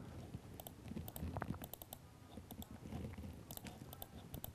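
Someone types on a computer keyboard, a faint, quick patter of close key clicks coming in uneven bursts throughout.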